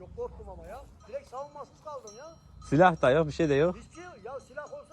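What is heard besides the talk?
None of the usual background noises is heard.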